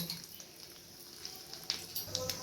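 Panch phoron spices crackle in a small amount of hot oil for an egg potato curry, a low steady sizzle with a few sharp pops near the end, close and fairly quiet with no talking.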